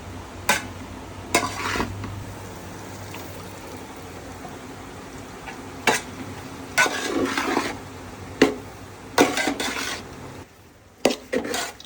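A pan-fry of 'pathiru' in a home kitchen: a steady hiss runs underneath while sharp clinks and scrapes of a utensil against the pan break in at irregular intervals, close and fairly loud, with no talking.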